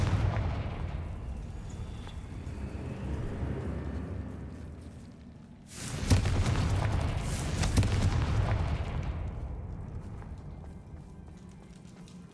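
A Confringo fire spell erupts in Hogwarts Legacy, a sudden booming blast with crackling, rumbling fire that swells and then fades over several seconds, over a low ambient rumble.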